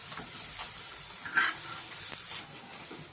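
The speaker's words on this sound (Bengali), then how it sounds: "এখন এই পিঠটা ভাজা হয়ে গেছে, আবার উল্টে দিলাম।" A radish paratha fries in oil on a pan, giving a soft, continuous sizzle with light scraping and stirring sounds as it is pressed and flipped.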